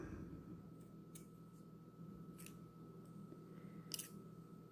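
Scissors snip thread in a few short, sharp cuts spaced about a second apart, close and quiet over a steady low hum.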